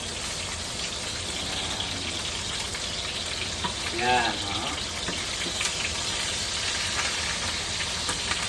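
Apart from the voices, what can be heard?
hotdogs frying in a pan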